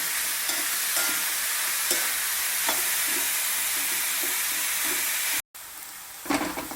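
Bitter gourd pieces for an Onam feast fry crisp in a pan, giving a steady, loud sizzle with periodic scraping stirs and a short break near the end.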